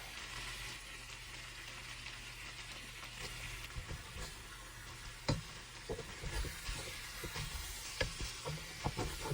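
Garlic and ginger sautéing in a hot pan for chicken tinola, a steady close sizzle and frying hiss throughout, with occasional louder crackles and stirring clatter toward the end.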